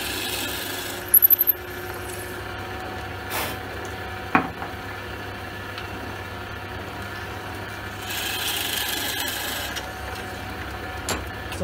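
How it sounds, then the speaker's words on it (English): Soft, steady rubbing and rasping as the end faces of small wooden beads are sanded flat against an abrasive surface, with a few scattered clicks and taps, close and fairly quiet. "So I sand the end faces flat first, where the hole is"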